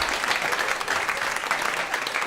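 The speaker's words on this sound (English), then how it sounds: "Give Deirdre a round of applause." Audience applause at a live comedy and variety cabaret show, a steady dense wash of clapping from a crowd sustained evenly throughout with no talk over it.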